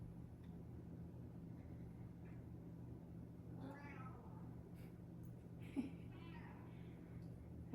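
A cat meows faintly in the background of a quiet room during a telehealth session, a couple of short calls rising above a steady low hum.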